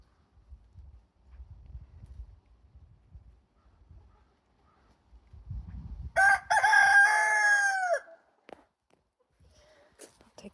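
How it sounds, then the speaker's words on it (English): A rooster crows once loudly and close, a long bright call, while chickens cluck and shuffle softly before and after during morning feeding at a backyard coop. "Happy chickens."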